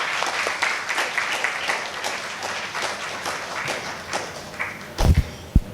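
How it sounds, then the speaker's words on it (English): Audience clapping at a Vyasa Puja celebration for HH Radhanath Swami at ISKCON Chennai, a steady wash of many hands that thins out, ending with a few loud thumps near the close. "we should clap Maharaj and that team."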